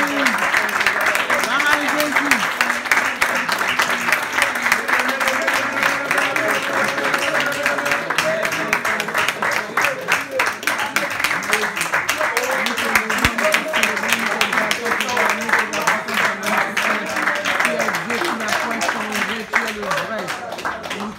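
A church congregation claps and cheers for God in continuous rhythmic applause lasting the whole stretch, loud and close, with voices mixed in throughout.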